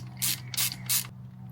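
A ratchet breaking loose a spark plug in the aluminum cylinder head of an Evo 8 gives three short, faint bursts of clicking in quick succession, with no talk.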